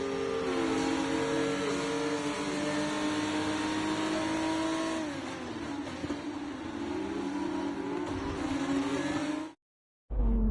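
Racing engine in F1 24, a PHM by Charouz car, pulling into parc fermé after a race win, loud and continuous with pitch sweeping up and down through shifts, then cutting out abruptly near the end before a brief burst returns.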